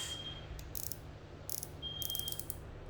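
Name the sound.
clicking of a Calcutta Conquest 21 fishing reel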